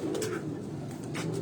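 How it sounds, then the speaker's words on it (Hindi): A pigeon, one of a long-distance high-flying breed, coos softly and repeatedly over steady background noise, with no talk. "अच्छा तो बासत भाई, ये दोस्तों अब इस कबूतर के आप पंजे देखें।"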